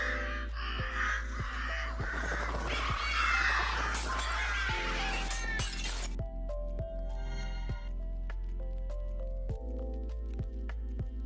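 Crows cawing in a shooter video game, harsh repeated calls mixed with shattering and squishy impact effects over a steady tonal game soundtrack, followed by sparser musical notes and scattered hits.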